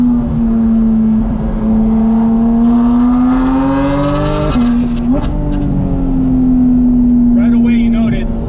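A Porsche GT4 RS on a racing circuit, its engine droning loud and close as revs climb steadily through the gears, with a sharp shift break midway and tyre noise, while a voice talks over it.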